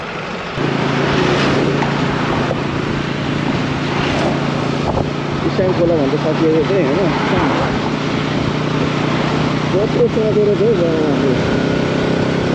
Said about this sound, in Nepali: हामी चाहिँ बाइकमा जाँदैछौँ